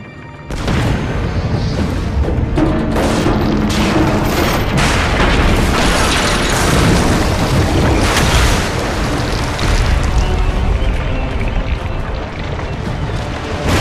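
Greek fire explosions in Assassin's Creed Revelations, heavy booms rolling over a loud, steady wash of sea and wind, with blasts recurring through the whole stretch.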